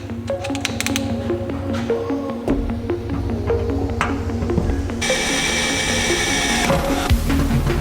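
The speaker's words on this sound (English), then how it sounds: "After the one spot weld was drilled out, popped right off" A drill bores out a spot weld on a bracket from a Nissan R32 GT-R under restoration, giving a close, loud whine that shifts in pitch as it cuts, with occasional sharp ticks.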